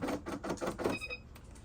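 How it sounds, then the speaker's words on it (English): A malfunctioning sewing machine stitching an apron runs in a quick burst of about five rhythmic mechanical thumps, then stalls into a brief quiet whir with faint clicks. "my sewing machine giving me fits"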